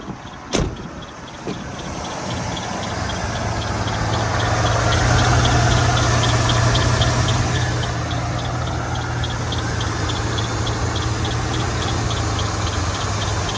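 A 1988 Chevy 1500 pickup idling steadily with an odd noise: a low engine drone under a fast, regular high ticking throughout, after a sharp thump near the start.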